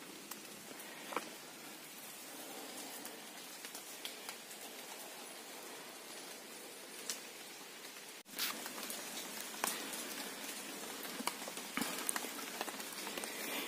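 Rain falls steadily outdoors in misty weather, a dense, even patter of drops on surfaces with occasional sharper ticks that runs throughout, close and moderately loud, with no talking.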